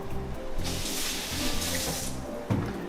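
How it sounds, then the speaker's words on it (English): Running tap water splashes steadily over a metal spoon being rinsed under a kitchen faucet, a continuous close hiss and spatter with a slight surge near the end. "Let's just get a spoon. Wash the spoon off."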